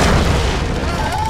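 A cartoon power blast called a thunder thump in an animated superhero episode lands as a loud, deep boom that rolls out with a rumbling tail and a faint rising whoosh near the end.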